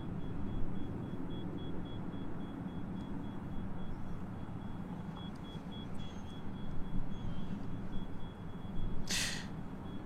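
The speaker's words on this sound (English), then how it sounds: "whoever has that beeping sound, I believe it's from a bus" Faint intermittent electronic beeping on an air traffic control radio channel, thought to come from a bus, sitting low under steady hiss and rumble with a brief sharp burst near the end.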